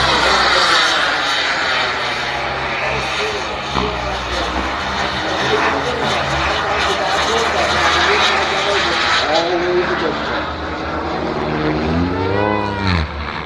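A Rebel Max model jet aircraft roars steadily overhead during an airshow demo flight, its engine whine sweeping in pitch as it passes close near the end, with voices faintly underneath.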